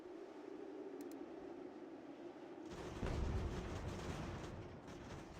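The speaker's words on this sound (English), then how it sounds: "I keep hearing cannon in the distance" Distant cannon fire rumbles in the game Ultimate General: American Revolution, with a deep, low boom swelling partway through over steady battlefield ambience.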